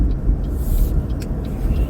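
A truck pulls up close by, its low engine rumble steady and heavy for the whole stretch, with a faint hiss now and then.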